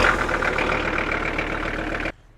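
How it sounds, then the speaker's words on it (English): A tractor engine idles steadily while warming up, loud and close, a continuous rumbling drone that cuts off abruptly near the end. "As the tractor is back there warming up"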